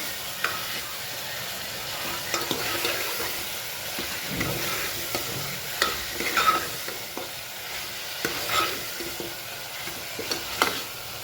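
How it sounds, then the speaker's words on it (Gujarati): Powdered spices and salt are stirred into vegetable curry over a full gas flame, a continuous soft frying hiss broken by repeated scraping and tapping of the spoon, no speech. "ગેસની ફ્લેમ ફૂલ કરી મસાલો મિક્સ કરી લઈએ."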